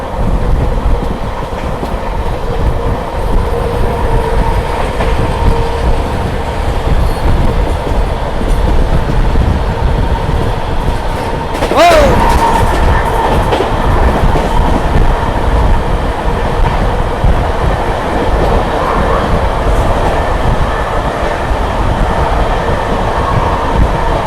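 The Sampoorna Kranti Express, running from Rajendra Nagar Patna to Delhi, rolls past in a loud, continuous rumble of wheels and carriages, with a short metallic squeal partway through.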